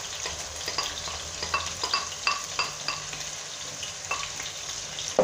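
Liver sizzling and frying in a pan, with a steady hiss of hot oil broken by repeated scraping strokes as it is stirred, close up and with no talk.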